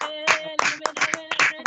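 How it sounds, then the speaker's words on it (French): A congregation at a prayer meeting claps in rhythmic, close bursts, sharp hand strikes mixed with singing or voices underneath. "Applaudissez à présent."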